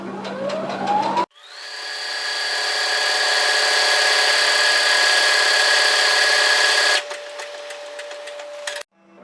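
A sewing machine stitching a buttonhole in a knit jacket runs steadily at high speed for about six seconds, whirring close and loud, with brief rattling starts and stops at either end.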